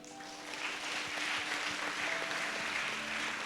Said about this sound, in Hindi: सब लोग ताली बजाए।